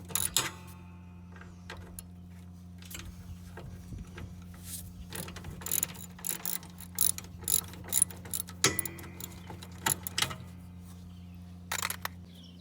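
Ratchet wrench clicking as it loosens a 10 mm bolt on a scrap vehicle frame, bursts of close ratcheting over a steady low hum with occasional clanks.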